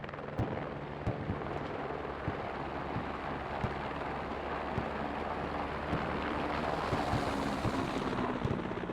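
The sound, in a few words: military helicopter touching down in the video game Squad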